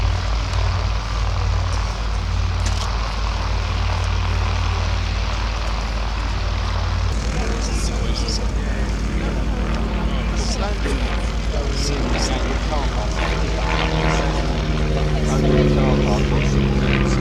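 Bucker Bu131 Jungmann vintage propeller biplane passing overhead at an air and car show display, a steady engine drone that rises and shifts in pitch as it nears, under a public-address commentator's voice.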